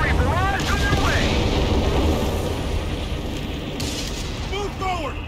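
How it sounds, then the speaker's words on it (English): Artillery barrage explosions in the video game Company of Heroes 3, a dense, continuous roar of booming blasts and rumble with whistling shells overhead, loud and sustained throughout, with battlefield chatter mixed in. "Artillery barrage on your way!"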